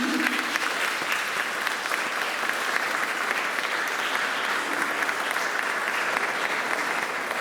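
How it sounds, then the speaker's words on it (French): Sustained applause from a church congregation at a First Communion service at Saint Joseph church, honouring the liturgical team, musicians and choir; dense, steady clapping throughout. "Vous pouvez les applaudir."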